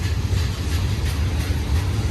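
A heavy Union Pacific junk freight train with a lash-up of older locomotives rolls past, giving a steady, loud low rumble and rail noise with no distinct clicks and no voices.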